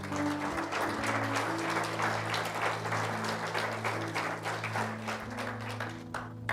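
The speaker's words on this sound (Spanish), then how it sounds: "Dale un aplauso al Señor." Church congregation applauding steadily for several seconds, a dense wash of clapping over sustained organ or keyboard tones.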